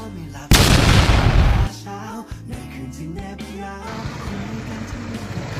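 A sudden loud bang as an overinflated tire bursts, roaring for about a second, then dropping away to softer rumbling and background noise.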